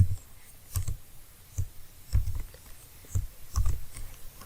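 Code being typed on a computer keyboard: soft, irregular key clicks come in small bursts, fairly close and quiet, with no talk.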